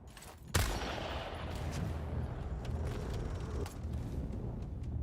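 Rapid gunfire bursts in the vampire battle royale game Bloodhunt, a loud crack followed by sustained rattling shots and muffled ambient rumble, with no talking.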